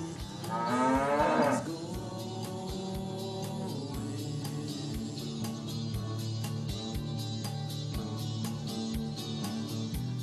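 A cow moos loudly once near the start, a long drawn-out call, followed by steady rhythmic music with regular beats for the rest of the clip.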